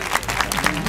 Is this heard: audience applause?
yes